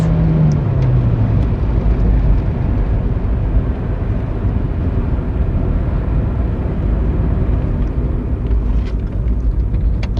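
A Tofaş Şahin car with its engine running steadily while driving at speed on a flat road, in third gear around 100 km/h, a loud continuous low rumble with road noise heard from inside the car.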